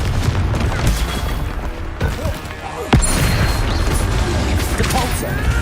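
Confringo fire blast spell explosions in the Hogwarts Legacy video game, loud booming and crashing impacts over dense battle noise, with a sharp blast near the middle and a busy, continuous clatter throughout.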